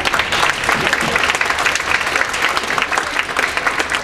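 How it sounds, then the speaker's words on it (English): A group claps in steady, dense applause at a YMCA strategic planning launch, loud and sustained throughout with no talk over it. "So as you should give yourselves a round of applause."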